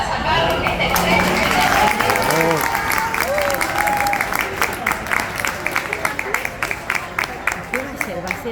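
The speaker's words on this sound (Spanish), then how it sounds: "Podríamos arrancar con un aplauso para sacar este estrés." An audience breaks into applause, first as dense, sustained clapping and then settling into scattered individual claps, with voices talking underneath.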